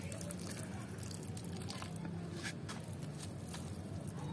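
Liquid mixed fertilizer is poured gently onto a potted petunia, giving a soft, continuous trickling wash of water close by with faint background movement.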